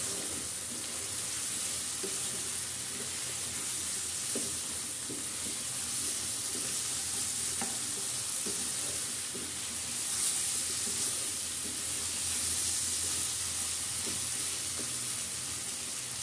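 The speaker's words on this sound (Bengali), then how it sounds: "পটলগুলো দিয়েও একটু নাড়াচাড়া করে নিব।" Pointed gourd sizzles in a frying pan while being stirred, a constant moderate hiss broken by light scraping clicks from the spoon.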